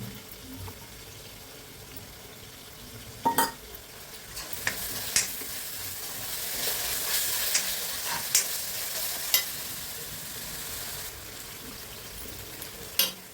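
Curry leaves and green chillies fry in a pan for a Telugu-style fish curry, a continuous sizzle and crackle with occasional sharp spatters and pops throughout.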